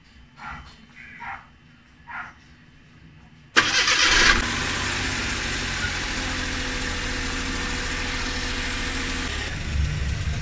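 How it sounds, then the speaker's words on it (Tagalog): A Suzuki Every Wagon automatic with a check-engine light cranks and fires up after a few dog barks, then settles into a steady, close idle that continues to the end. "So start lang natin ang ating makina."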